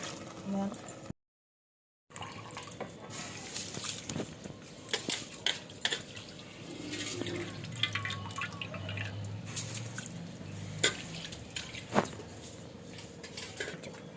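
Water splashes and drips into a metal pressure cooker for biryani, with scattered clinks of utensils and quiet talk in the background.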